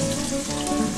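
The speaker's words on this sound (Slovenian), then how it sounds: "tele sfilirane skušice in ušate sem malo povalil v mokci in tlele na vroče olje lepo, ki se na brzinco samo takole malo pečejo" Floured mackerel and small fish fillets frying in hot oil, a steady dense sizzle with no talk, close and fairly loud throughout.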